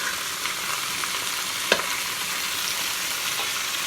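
Ingredients for sinigang with milkfish frying with spices in a pan, giving a steady even sizzle with one brief clink of a utensil partway through.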